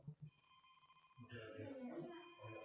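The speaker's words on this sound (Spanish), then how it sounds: "un sonido de un timbre de un teléfono" A telephone ringtone sounding in a room during an online class, a steady electronic ring that comes through faintly at first, then continues under a person speaking.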